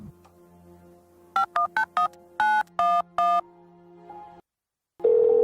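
A mobile phone number is dialed as a quick run of distinct keypad tones in two clusters, loud and close over a quiet background, followed by a pause and then a steady ringback or call tone.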